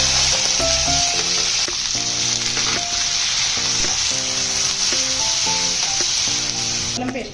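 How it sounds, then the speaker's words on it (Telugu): Onion and green chillies fry in hot oil with a loud, continuous sizzle and hiss, close by and steady throughout, with no voices. "ఉల్లిపాయ పచ్చిమిరకాయ వేసుకుంటాను."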